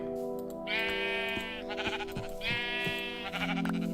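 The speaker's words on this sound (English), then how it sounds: "Where'd that sheep go?" A video game sheep (Minecraft Better Than Wolves mod) bleats twice, loud and near, each wavering cry followed by soft thumps, over a low steady background hum.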